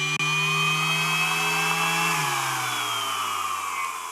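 A Milwaukee M12 cordless sander running at top speed, with a steady close whine that holds at a constant pitch and then dips slightly as it continues without talk.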